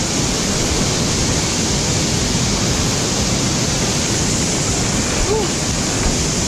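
The strong current of Tetewa waterfall gives a steady, loud, rushing roar of falling water that fills the whole stretch without pause, heard up close.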